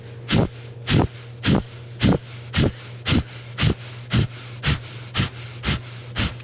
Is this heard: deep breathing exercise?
yes